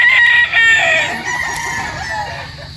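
A golden boy gamefowl rooster crows close by in a single long, loud call that trails off, with faint clucking and farmyard noise underneath.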